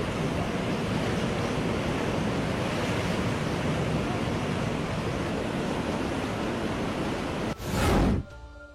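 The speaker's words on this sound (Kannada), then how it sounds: "ಮಹಾಮಳೆಗೆ ಉಕ್ಕಿದ ಕೃಷ್ಣಾ ನದಿ, ಬೆಳಗಾವಿ ತತ್ತರ." The Krishna river in flood after heavy monsoon rain near Belagavi, Karnataka, roars as a loud, steady, unbroken rush of water. A short, louder burst of noise breaks through near the end.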